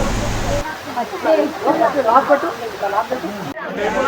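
Small waterfalls near Srisailam give a steady rushing wash of water, loudest at the start and end, with voices talking over it through the middle.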